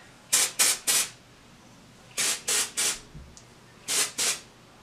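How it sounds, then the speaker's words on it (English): Short, bright sprays of volumizing aerosol dry shampoo hiss close by in three bursts, then three more, then two, each lasting about a quarter second. "I like to spray some dry shampoo in."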